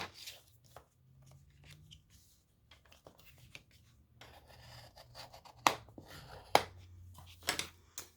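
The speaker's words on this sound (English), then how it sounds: "I'm just going to bring in my bone folder and just reinforce those" A bone folder rubs and presses along fold lines on card paper, giving soft scraping strokes and a few sharper taps, close and fairly quiet.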